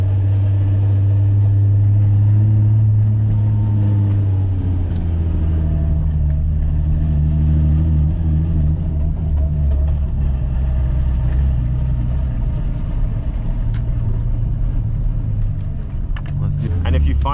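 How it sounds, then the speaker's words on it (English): A manual-transmission car pulls away: its engine drones loud and close, then the pitch drops and climbs again as it shifts into second gear and accelerates, a steady deep rumble throughout. "Now second gear, clutch in, shift down, clutch off as you give gas."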